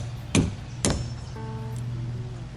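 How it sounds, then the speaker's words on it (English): Two sharp metallic taps a half second apart as a tool strikes a rivet head on the deck of a Com Pac 16 sailboat under restoration, followed by a faint low hum. "I'm going to give that a little tap and see if I can get the head high enough that I can grab it with the pliers."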